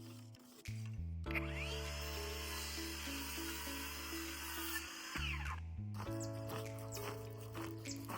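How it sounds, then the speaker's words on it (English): A power saw whines steadily through wood for several seconds, drops briefly, then cuts again; loud and close, with a low motor hum underneath. "I started sawing the leftover wood of our tiny house to form a frame"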